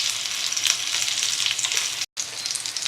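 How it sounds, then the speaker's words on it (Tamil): Egg tikka pieces fry in melted butter on a hot pan, with a dense, close crackling sizzle that runs continuously, interrupted by a brief cut of silence near the end. "சூடானதும் அதில் பட்டர் ஆட் பண்ணி பட்டர் மெல்ட் ஆனதும் நம்ம ரெடி பண்ணி வச்சுக்கிற டிக்காவை இதில் எடுத்து வச்சிடுறோம்."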